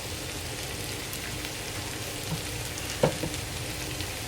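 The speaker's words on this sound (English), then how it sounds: "I want to get them soft, so they're edible, you know, like a sauteed mushroom." Mushrooms sautéing gently in a pan give a soft, continuous sizzle and crackle, fairly quiet and close, with a brief utensil clack partway through.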